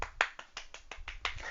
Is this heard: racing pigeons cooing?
no